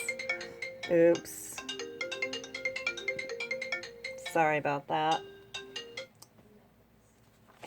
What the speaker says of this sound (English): I can't go make a video without my phone ringing.